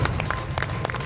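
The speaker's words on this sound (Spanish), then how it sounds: "Fuerte el aplauso." A TV game-show studio audience applauds in a brief, dense burst of clapping with some crowd noise, loud and continuous across the short moment.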